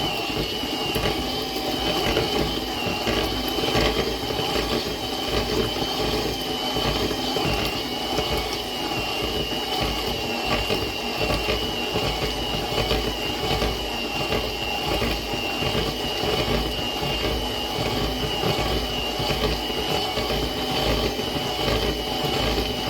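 An electric mixer beats cut pieces of butter in a bowl, a steady whirring, rattling motor drone that runs loud and unbroken throughout.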